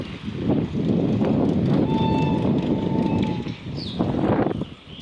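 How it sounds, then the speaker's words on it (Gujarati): Intercity train passing at speed, a loud continuous rumble and clatter of wheels with a whine of rails, heard close and outdoors. "લુસાડાના બોર્ડેથી ઇન્ટરસિટી જાય છે."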